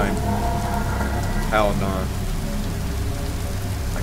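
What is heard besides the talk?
pouring rain in a video game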